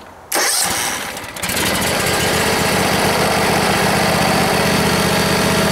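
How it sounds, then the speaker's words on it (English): A John Deere X300 lawn tractor engine cranks briefly, catches and settles into a loud, steady idle that stays close and continuous with no talking over it. "So we'll do crank test start engine."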